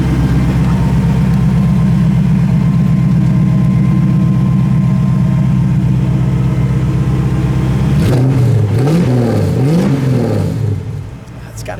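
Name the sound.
classic car engine idling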